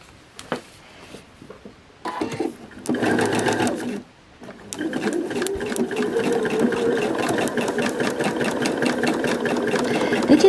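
A sewing machine stitching a quarter-inch quilt seam on a star point block, starting in short stop-start bursts and then running steadily at close range with a rapid even motor hum and needle rhythm.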